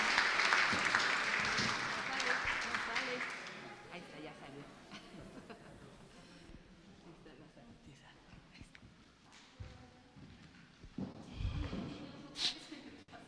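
A church congregation applauds during a worship service: a loud burst of clapping over the first few seconds, fading out as a voice starts talking quietly with some whispering.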